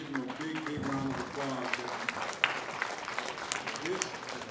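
Audience applause for a man brought up on stage at a welding-school scholarship event, steady clapping throughout with voices and crowd noise mixed in and a few sharper claps standing out.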